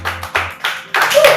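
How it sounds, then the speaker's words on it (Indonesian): A podcast studio audience claps for a guest in a few short bursts, loud and close, with brief gaps between them and some voices talking over the end. "Sekali lagi tepuk tangan untuk Bang Bayam"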